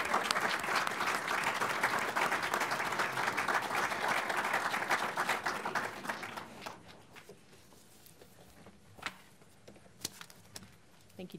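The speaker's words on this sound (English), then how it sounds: "let's give a round of applause to these two ladies who have very," An audience at a talk on immigration in Colorado gives two speakers a long round of applause, dense clapping for about six seconds that fades into a few isolated claps and quiet room noise.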